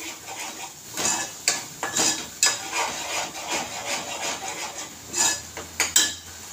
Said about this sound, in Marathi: मस्त असं त्याला तेल सुटेपर्यंत आपल्याला हे कच्चं वाटण परतायचं आहे